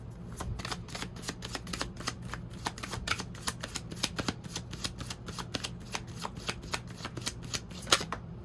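A deck of self-care oracle cards is shuffled steadily for several seconds, giving a quick, continuous run of crisp riffling flutters and soft snaps, close and fairly quiet, with no talking.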